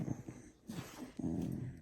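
A dog snorting and growling up close in short rough bursts, with low grumbling sounds coming in irregular clusters and brief pauses between them.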